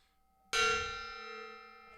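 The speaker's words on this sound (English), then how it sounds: "I'm gonna hit that gong" A gong in a home workshop is struck once, hard and close, after a quiet lead-in, then rings on with a bright, shimmering sustain that fades only slowly.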